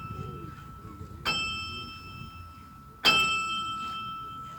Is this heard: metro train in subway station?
no